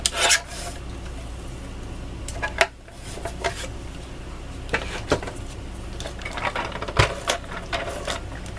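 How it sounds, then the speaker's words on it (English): Scissors cut a rectangle from paper card at a crafting table, making a string of close, dry snips and rasping strokes with small taps and rustles between them. "Just cut the last rectangle here."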